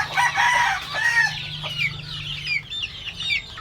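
Hens cluck busily and loudly close by right after being let out, their short overlapping calls packed together over a low steady hum that fades partway through.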